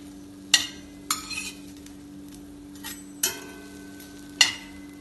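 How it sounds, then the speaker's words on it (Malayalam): Bread slices frying in a pan for shahi tukda, with five sharp spatula clinks and scrapes against the pan spaced over a faint low sizzle and steady background hum, no voices. "ബ്രെഡ് ഇട്ട് ഫ്രൈ ചെയ്യാം."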